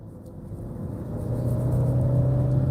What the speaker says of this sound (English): you hear the motor. It's up there.